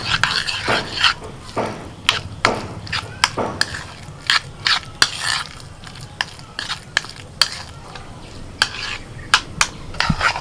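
A spoon stirs thick yogurt with chopped coriander, salt and ground black pepper in a bowl, giving repeated clinks and scrapes against the bowl in an irregular rhythm, close up with no talking.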